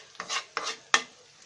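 A spatula scrapes three quick strokes through black cumin, coriander leaves, onion, garlic and chilies stir-frying in a pan, each stroke a short rasping swish, close and fairly quiet, with no voice.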